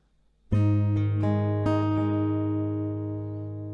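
Strummed acoustic guitar chords from the G section of a song, several distinct strums ringing out and slowly decaying, close and clear with no voice.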